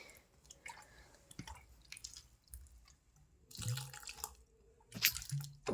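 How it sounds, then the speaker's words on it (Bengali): Water poured onto indoor house plants gives faint, intermittent splashes and drips, with a few louder spatters near the end and no speech. "গাছগুলোয় চলে একটু জল খাইয়ে দিই"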